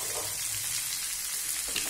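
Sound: okra frying and sizzling in a pan

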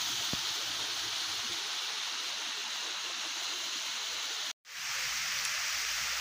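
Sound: sewage water flowing into a river

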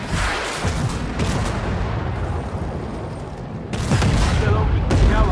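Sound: tank cannon fire in a World of Tanks video game

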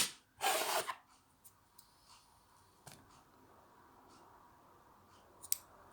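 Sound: scissors cutting excess wool yarn

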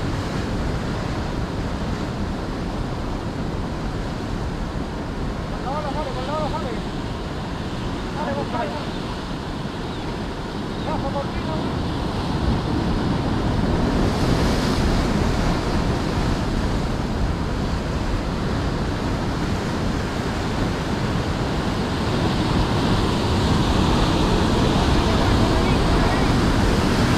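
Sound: ocean waves breaking on the shore

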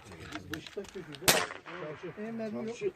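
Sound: FXD air rifle shots at an airgun shooting event

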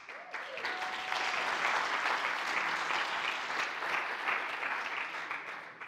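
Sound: audience round of applause

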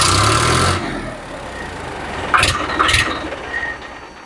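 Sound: Eicher Prima 557 tractor engine running

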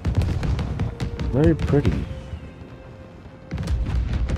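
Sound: fireworks exploding in the video game Spider-Man 2

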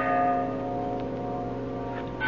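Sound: bell ringing in the distance, radio drama sound effect

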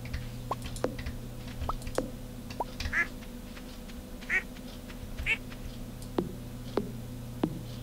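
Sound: duck quacking in the video game Stardew Valley

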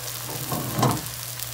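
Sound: Filipino eggplant omelette frying in a pan

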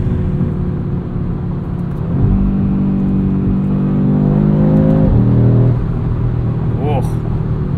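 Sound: 2022 Audi RS 3 accelerating on throttle

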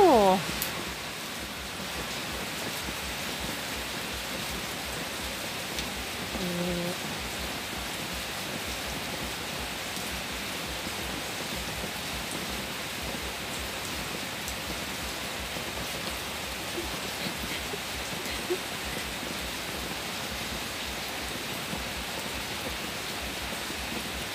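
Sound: heavy rain falling outside a house

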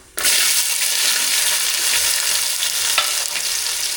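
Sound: fenugreek and shallots frying in hot oil in a pan

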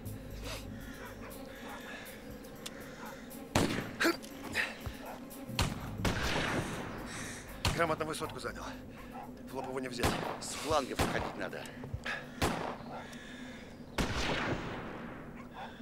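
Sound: gunfire

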